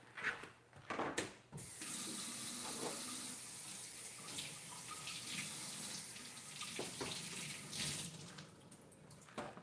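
Tap water runs steadily into a sink while hands are washed, a continuous broadband rush with a few splashy bursts near the start, close and fairly loud throughout.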